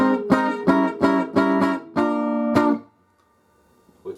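Electric guitar in a blues lesson plays chord shifts: a run of six or seven short, crisp chord stabs in a quick, uneven rhythm, the last ringing out before a couple of seconds of near silence.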